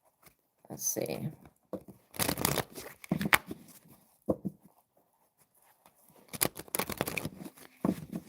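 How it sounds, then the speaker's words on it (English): A deck of tarot cards being shuffled by hand, several bursts of papery riffling and sliding with pauses between them, close and fairly quiet. "So I'm going to shuffle the deck"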